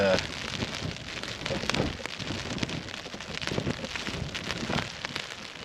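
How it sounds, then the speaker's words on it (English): Continuous early-morning rain patters and hisses close by at a wild campsite at Stickle Tarn in the Lake District, with scattered drips and light knocks on a surface. "as predicted it's raining"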